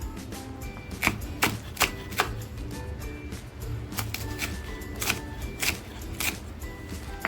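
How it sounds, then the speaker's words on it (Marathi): Green chillies chopped with a knife on a board, a run of sharp, irregular cutting taps, close and clear, with a faint murmur and background hum beneath. "ज्या मिरच्या घेतल्यात हिरव्या त्याही कापून घेते"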